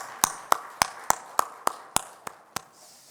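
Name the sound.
church congregation applauding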